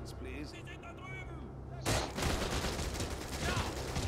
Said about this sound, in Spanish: hay que darle dos tiros de sniper